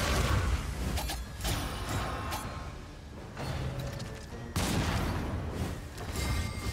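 Heavy cannon blasts from an elite cannon in Darkest Dungeon 2, several booming shots with rumbling tails, one around the start and another strong hit midway, mechanical clatter between.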